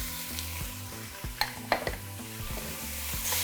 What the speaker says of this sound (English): We're going to break it down and allow it to brown.